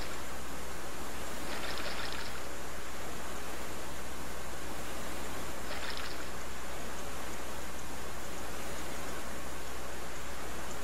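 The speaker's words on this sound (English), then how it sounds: "A rushing stream flows along the forest floor" A rushing forest stream in the adventure game King's Quest III gives a steady, even wash of water noise that holds at a constant moderate level without pause.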